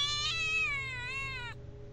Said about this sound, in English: That sounded like kind of like a cat, but also like a person, like a small child